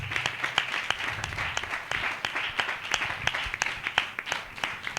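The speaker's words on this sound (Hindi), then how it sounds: "हम जोरदार ताली से उनका स्वागत करें।" An audience at a church gathering led by a pastor bursts into vigorous, continuous applause, dense overlapping claps filling the hall for several seconds.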